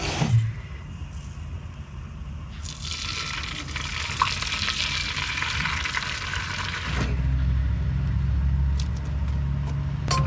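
Potatoes being laid into a Remoska Tria electric pan inside a motorhome, heard as a steady hiss with soft placing and shuffling noises, then a low rumbling background.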